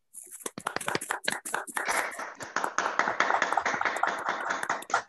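Online participants with open microphones applaud a guest speaker at a talk on Mexican comics: a few scattered claps at first, then denser, uneven clapping from several people, heard faintly and unevenly through their separate connections.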